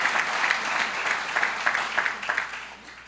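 Congregation applauding during a church sermon, a sustained wash of clapping from many hands with rhythmic swells, fairly loud and close, with no talk over it.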